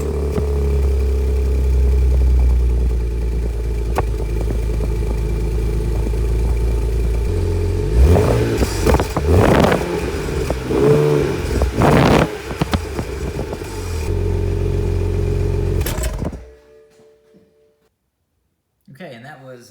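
A BMW engine with flap-deleted stock exhaust idles with a steady low rumble, then revs up to about 4,000 RPM and down several times in sharp surges before cutting off into near silence.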